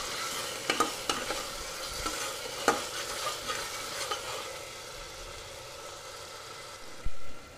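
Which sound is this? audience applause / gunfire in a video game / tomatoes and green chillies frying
tomatoes and green chillies frying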